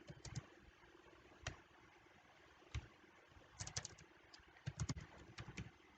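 Keystrokes on a computer keyboard while a text box is filled in for a COVID-19 alert poster: scattered quiet taps and short bursts of several quick clicks over a low room hum, with no talking.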